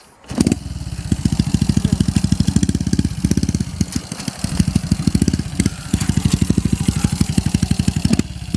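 Honda Wave 110i motorcycle with an LED setup, modified cam and aftermarket exhaust, revving hard and close, with rapid loud pulsing blips that rise and fall repeatedly throughout.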